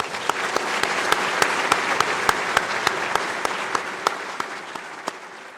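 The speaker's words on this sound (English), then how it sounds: "Please give them a round of applause." Steady applause from a crowd at an engineering academy annual meeting, dense clapping with a few sharper claps standing out, slowly fading toward the end.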